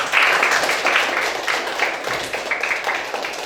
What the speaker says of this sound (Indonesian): Boleh kita berikan tepuk tangan untuk kita semua.